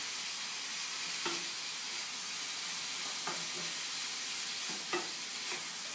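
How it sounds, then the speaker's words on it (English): Salted coconut fish broth base is stirred in a pot over steady sizzling hiss, with a few soft spoon scrapes every couple of seconds, quiet and close. "Mix it all in"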